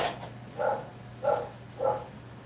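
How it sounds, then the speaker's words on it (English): A smart speaker plays a recorded dog bark inside a workshop: three evenly spaced, mid-pitched woofs with a short pause between each, heard at moderate volume with no talking. "Alexa, can you bark like a dog?"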